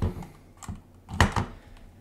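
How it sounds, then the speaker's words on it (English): A few keys are pressed on a Motospeed mechanical numpad with Outemu red switches, giving close, crisp clicks at an uneven pace. "that is not a blue switch. It is, I think it's a mechanical switch, but it feels, this is a brown."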